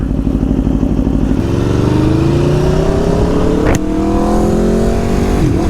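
Aprilia RSV4 motorcycle fitted with a LeoVince Factory S exhaust, baffle removed, revving up through climbing engine tones close by, with a sharp crackle midway and another rising pull after it.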